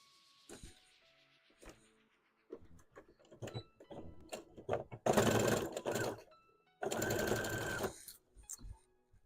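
A home sewing machine stitches a seam for convention costume prep, running in two loud sustained bursts after scattered clicks and handling noises, close up with no talk.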